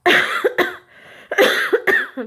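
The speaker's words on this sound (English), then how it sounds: "Excuse me, I got a cough." Several sharp coughs come in two quick bursts, close and loud, with a short pause between them.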